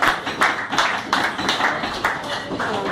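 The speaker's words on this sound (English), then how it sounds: "A round of applause." Audience applause as a speaker is introduced at a talk on illicit drugs: fairly close clapping in a loose, pulsing rhythm that holds steady for about three seconds.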